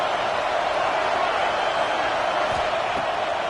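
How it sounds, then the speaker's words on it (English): Ohio State Buckeye football stadium crowd roaring on third down, a dense, steady wall of cheering noise filling the whole stretch, heard close and loud without distinct voices. "The Buckeye crowd alive on 3rd down"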